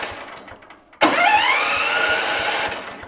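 The engine of a MAKTANI rice milling machine cranks and catches abruptly after a quiet moment, then settles into a loud, steady running drone with a rising whine before easing slightly.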